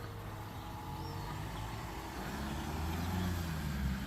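A Ford Focus drives nearby, its low engine and road rumble steady and even, swelling slightly louder toward the end with no talking over it.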